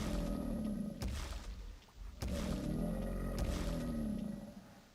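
Deep, growling monster roars from the Dodo rise and fall in three or four long, rumbling bursts, loud and close with no voices.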